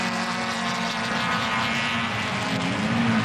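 Mini 850 race cars at Mondello Park in 1983 drone steadily, a sustained buzzing engine note holding at an even, fairly loud level throughout with no clear single pass-by.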